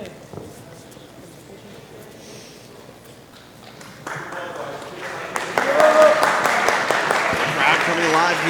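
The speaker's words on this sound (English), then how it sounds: "Crowd coming alive here inside the MVP mini arena" A crowd in the MVP mini arena swells into cheers and applause during a grappling match. The noise starts low, jumps up around four seconds in and stays loud, with commentators talking over it.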